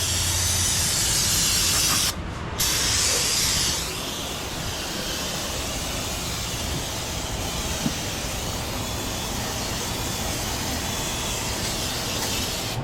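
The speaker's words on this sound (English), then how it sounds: "Hose that down with some cleaner. Make it re-shiny again. Brake clean in my face" Brake cleaner sprayed hard onto transmission parts of a Dodge Ram's ZF 8/9-speed automatic: a loud, continuous close-up hiss with a brief break near the start, then a long unbroken spray.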